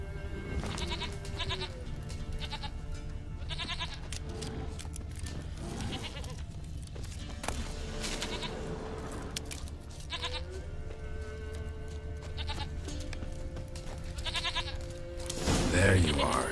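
Several goat bleats from The Witcher 3: Wild Hunt ring out at intervals over a steady game-like background hum, with a louder burst of noise near the end.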